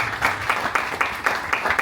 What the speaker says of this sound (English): So I ask you a round of applause for the team here locally.